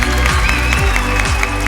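Audience clapping for a singer on a televised musical reality competition, steady dense applause throughout with a rhythmic low beat of show music underneath.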